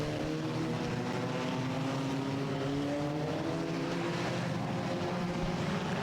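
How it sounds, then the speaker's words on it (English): Several four-cylinder race cars roar at full speed in an enduro at Star Speedway, engines droning and overlapping in a steady, loud wall of sound with pitches sliding as cars pass. "Full speed ahead now in the 4-cylinder enduro portion of the Halloween Howler"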